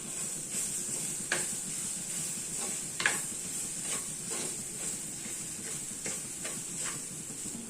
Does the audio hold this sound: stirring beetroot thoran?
yes